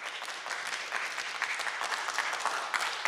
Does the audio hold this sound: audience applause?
yes